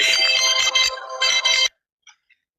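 A mobile phone ringtone rings loudly in a steady, continuous melodic tone for under two seconds, then cuts off abruptly into near silence with a couple of faint chirps.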